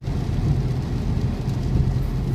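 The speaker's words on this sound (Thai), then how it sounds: "ฝนตกหนักมาก" Heavy rain pours near Lamai Beach on Koh Samui, Thailand: a dense, steady low roar with no breaks and no voices.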